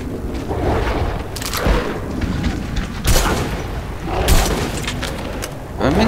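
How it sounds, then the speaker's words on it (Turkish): Several booming explosions in Metro 2033 Redux game audio, a few seconds apart, sharp bursts standing out against a rumbling noisy background. "Hı patladı"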